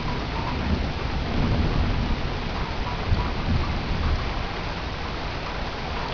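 A heavy thunderstorm with loud, steady rain pouring down and low thunder rumbling beneath it, continuous and close, with no voices.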